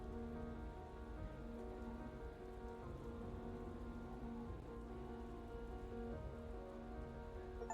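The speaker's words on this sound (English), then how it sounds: "the sound of raindrops on the roof always sounds the same" In a driving video game, rain drums softly and steadily on a car roof, a quiet, even patter with a faint tonal hum running beneath it.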